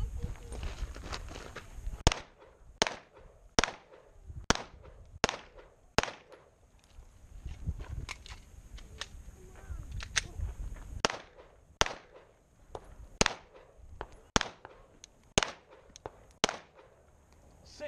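Pistol gunshots during an IDPA shooting drill, a long run of sharp cracks in irregular groups that sound moderately distant, with faint voices and shuffling between the shots.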